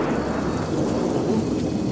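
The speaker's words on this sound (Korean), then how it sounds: "천둥 소리 아니야?" Thunder rolls in a rainy storm scene from an animated children's series, a loud, continuous low rumble with rain noise beneath it and no talk.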